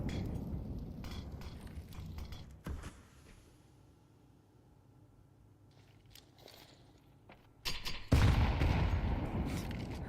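Gunfire in the Counter-Strike 2 video game during an ESL Challenger League esports match, with bursts of shots against a busy game-sound background, loudest near the end.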